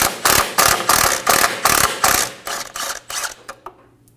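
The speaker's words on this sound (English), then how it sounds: "Use a 10mm socket and remove the bolt for the bracket." A ratchet with a 10mm socket backs out a bracket bolt on a 2008-2015 Scion xB during ABS wheel speed sensor work: a close, loud run of about a dozen rapid clicking strokes that slow and fade toward the end, with no talking.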